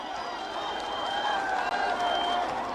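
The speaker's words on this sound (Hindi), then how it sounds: "एक बार जोरदार तालियों से स्वागत करिए।" A crowd at an outdoor political rally in Baraut claps and cheers to welcome Rahul Gandhi, a steady, dense wash of applause and crowd noise lasting the whole moment without a break.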